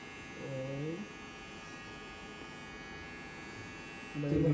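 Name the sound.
electric hair clipper cutting hair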